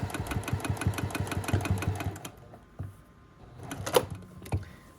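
A sewing machine straight-stitches a fabric appliqué petal on a quilt block, running in a fast close rhythmic whir for about two seconds, then stopping, followed by a few quiet handling clicks and rustles.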